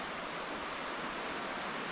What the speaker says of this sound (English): flowing down the mountain into a waterfall